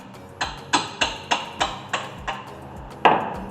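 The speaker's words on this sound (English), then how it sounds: "Just hold it there and just hit it with a hammer." Seven sharp metallic hammer strikes on a brake part of a 2016 Subaru Crosstrek ring out at a steady pace, followed after a short pause by a final harder blow.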